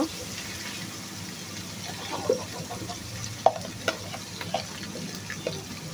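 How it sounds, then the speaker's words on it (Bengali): Chicken curry being stirred in a pan, a soft continuous frying hiss with occasional light utensil taps and scrapes, quiet and close, no voices. "এখন আমি কিছুক্ষণ নেড়ে নেব এটাকে।"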